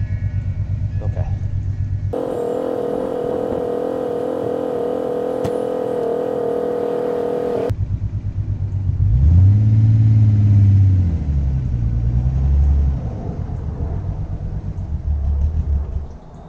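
A Datsun 280ZX, recently restarted after sitting for two years, revs its engine while being driven, a loud steady drone that rises and falls in pitch through several throttle swells.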